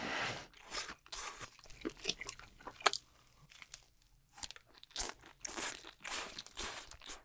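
Grilled small octopus on a skewer with a spicy coating, chewed up close in a series of crunchy, snappy bites and chews, with quiet pauses between.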